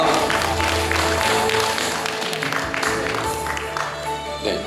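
Applause rings out at a doctoral degree ceremony, a crowd clapping in a dense, moderately loud patter that continues steadily throughout.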